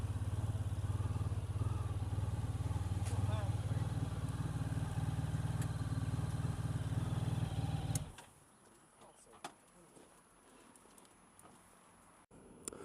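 A Honda X-ADV scooter engine running steadily and loudly close by for about eight seconds, then cutting off, leaving faint ambient noise and a few small clicks.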